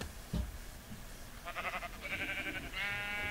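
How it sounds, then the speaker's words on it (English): A sheep in a video game bleats in a few short wavering calls, faint and alone against a soft background hum, the last bleat longest. "Never actually seen a sheep do that before."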